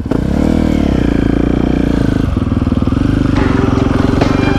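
Supermoto motorcycles, a KTM SMR 450 and a Husqvarna FC 450, rev hard up close in a city centre, their single-cylinder engines rising and falling in pitch with throttle blips, loud and continuous throughout.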